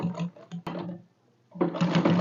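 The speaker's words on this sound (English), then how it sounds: "I'll turn it over like this and sew it at the back, sewing at the tip." A sewing machine stitches the neckline binding of an A-line dress in short close bursts, a rapid mechanical whir that stops briefly before resuming.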